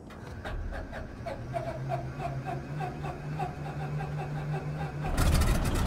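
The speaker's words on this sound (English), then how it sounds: "I'm going to engage the starter." A simulated PT17 Stearman biplane's radial engine turns over on the starter with rhythmic whirring and a low droning hum, then catches abruptly into a louder, rougher roar near the end.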